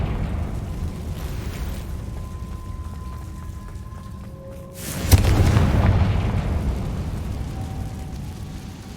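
A Confringo spell explosion in Hogwarts Legacy: a steady game ambience, then a sudden loud blast about midway that leaves a heavy, rumbling roar hanging for several seconds.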